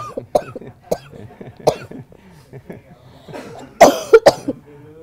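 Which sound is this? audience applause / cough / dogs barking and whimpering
cough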